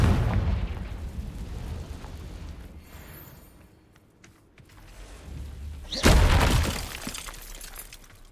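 A Confringo fire spell bursts in the video game Hogwarts Legacy: a loud, sustained rumble dips briefly, then a sharp, booming explosive crack erupts about two-thirds through and rolls off into continuing roar.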